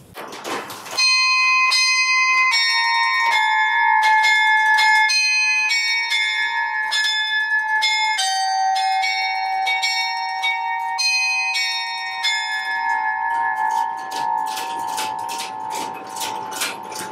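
Carillon bells in Tourcoing, cast and tuned to fundamental, third and fifth, ring out a loud, continuous sequence of overlapping bronze strokes that form a melody, with long shimmering decays and no voices.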